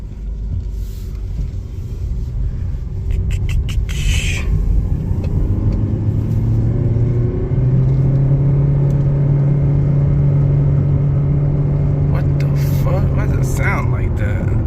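A new car's engine rumbles and builds as it accelerates, a steady low drone rising in pitch from inside the cabin, with people talking over it throughout.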